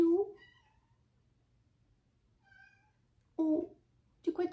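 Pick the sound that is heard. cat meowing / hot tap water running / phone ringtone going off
cat meowing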